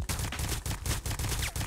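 Rapid gunfire in the 50 Cent Bulletproof video game, a loud unbroken string of shots fired in fast succession over a dense background clatter.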